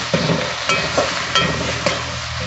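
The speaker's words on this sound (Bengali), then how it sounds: "আমি মশলাটা ভালো করে কষিয়ে নিয়ে" Spices frying with chopped tomato in a pan, a steady sizzle broken by a few soft rhythmic scrapes of stirring, close and alone.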